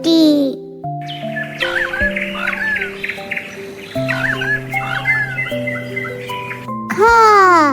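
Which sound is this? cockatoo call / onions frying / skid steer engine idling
cockatoo call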